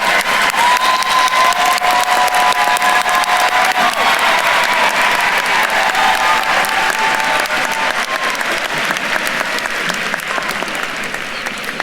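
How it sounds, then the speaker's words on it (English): A commencement audience applauding graduates, dense sustained clapping from a large crowd with light cheering mixed in, fading slightly toward the end. "Let's give our graduates another round of applause."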